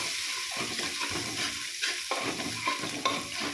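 Curry leaves frying with green chilli and ginger in a pan for a Kerala wedding-feast style pomegranate pickle, a steady close sizzle and crackle with scraping stirs, no voices.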